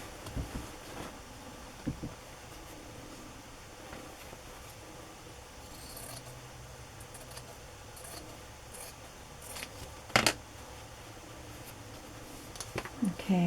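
Scissors cut through a fabric book cover, faint, scattered snips and rustling against a quiet room, with a sharper cut near the end.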